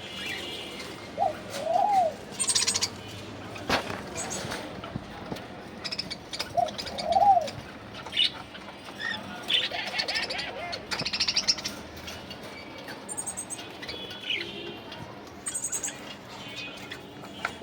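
Lutino budgerigars chirp and twitter in short bursts, close by, over a low background hum with scattered clicks and rustles.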